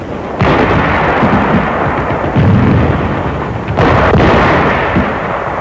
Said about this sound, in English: it was a matter of blowing them apart with bangalores and grenades